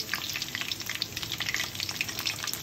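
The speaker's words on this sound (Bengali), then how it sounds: "একটু ভাজা হবে, তারপর একটু ভাজা হওয়ার পর আমি এটাকে নামিয়ে নেব।" Chicken pakoras frying in hot oil: dense, continuous crackling sizzle with bright popping bubbles throughout, close and steady with no voices.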